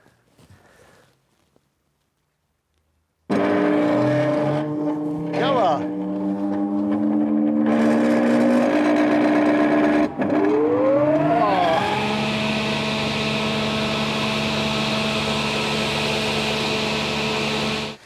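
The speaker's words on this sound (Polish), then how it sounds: "Może uda się odpalić tą maszynę." An old machine in a carpentry workshop starts after a quiet moment and runs loud and steady, its motor tone rising and shifting as it spins up, then settling into a sustained drone with a voice briefly heard beneath.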